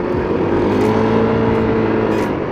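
Bore-up Yamaha NMAX scooter engine running on its original steel exhaust, a steady low drone with a constant, even hum and no talking.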